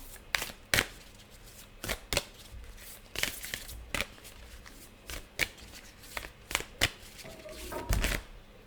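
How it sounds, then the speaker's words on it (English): A stiff Hearts-themed deck of cards is riffled and shuffled by hand in repeated sharp bursts, each flurry a crisp papery clatter close by, several in a row with short pauses between and no voices. "From the Hearts deck, which is incredibly difficult to shuffle, but we'll try."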